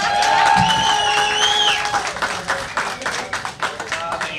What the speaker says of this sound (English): let's give a round of applause to his mother.